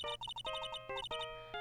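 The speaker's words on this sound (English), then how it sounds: "I don't like the sound of this ringtone right now." A phone ringtone from the Phoenix Wright video game plays as a bright, rapid electronic melody of short beeping notes in quick repeated bursts, clear and alone with no talking.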